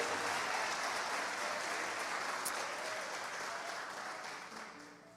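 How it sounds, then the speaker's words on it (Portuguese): A church congregation claps in praise during a worship service, steady, dense and loud applause filling the space throughout and tapering only slightly toward the end. "Dê um aplauso e glorifique a Deus, irmão, aleluia!"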